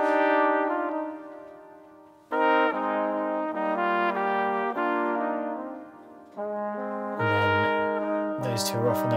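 Brass ensemble with horns plays an arrangement of a song, sustained chords that swell and fade in phrases, with a new entry after a brief dip and busier, brighter accents near the end.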